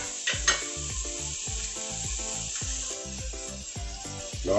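Vegetables for a rice dish frying in a pan, a loud, constant close sizzle with regular rhythmic stirring scrapes of a utensil and a couple of sharper clinks against the pan.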